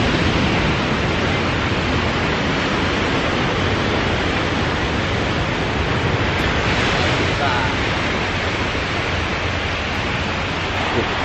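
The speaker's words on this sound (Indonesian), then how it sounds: "kita lebih dekat ke pinggir pantainya. Jalan-jalan ke pinggir pantai kita." A constant loud rush of surf washes over everything, a dense unbroken roar of waves breaking nearby on a Bali beach with no pauses.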